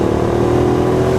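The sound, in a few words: Hyosung GT650R motorcycle engine braking after rolling off throttle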